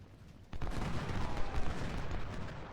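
Civil War troops in Ultimate General: Civil War opening fire, a sudden ragged volley of musketry starting abruptly and rolling on as a dense crackle, moderately loud and heard alone.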